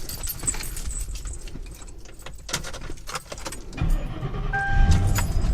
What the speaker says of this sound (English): And if I can get my keys.